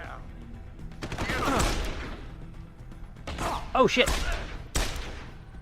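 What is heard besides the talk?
gunfire from Deus Ex: Human Revolution video game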